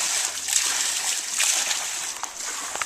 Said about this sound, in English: There's one of those water wheels